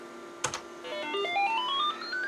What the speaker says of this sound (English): So we get this ascending musical scale, and then it repeats that scale again